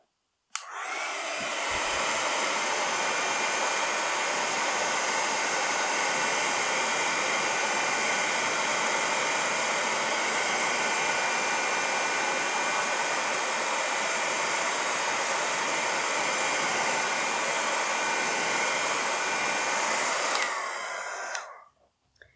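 A heat tool runs continuously for about twenty seconds, setting embossing powder on a mixed media card. Its steady, loud, broadband blowing whoosh starts abruptly and cuts off at the end, with no talking.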